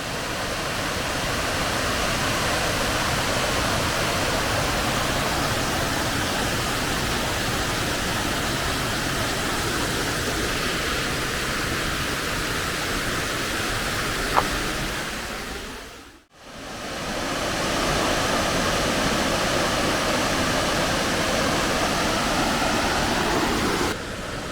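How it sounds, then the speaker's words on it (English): Lower North Falls at Silver Falls, Oregon, a steady loud roaring rush of falling water close by, broadband and unbroken apart from one sudden brief dropout midway. "So we're still at that same waterfall, Lower North, I believe it's called."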